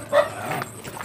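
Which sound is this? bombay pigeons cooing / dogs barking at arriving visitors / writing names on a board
dogs barking at arriving visitors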